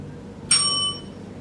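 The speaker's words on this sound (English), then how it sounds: "After the speaker has spoken for 4 minutes, the bell will ring like this." A single bell struck once to mark a debate speaker's time, a clear bright ring that sounds sharply and then decays over about half a second in an otherwise quiet room.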